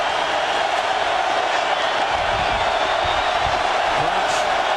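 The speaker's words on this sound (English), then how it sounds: "Crouch trying to be heard over the deafening noise of the hometown crowd now." Roar of a packed hometown football crowd at an Oklahoma versus Nebraska college game, a loud continuous wash of noise with no letup.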